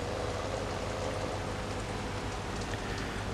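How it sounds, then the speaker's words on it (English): Steady, dense rainfall in the Farming Simulator 17 video game on a Fendt farm, a continuous even hiss of drops hitting surfaces that carries on unbroken throughout with no talking. "And still the rain hasn't let up. It's been raining for a very long time now."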